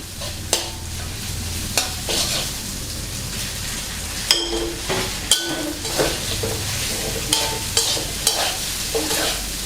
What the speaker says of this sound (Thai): ใส่หอมใหญ่ไปแล้วก็ตามด้วยข้าวเลยครับ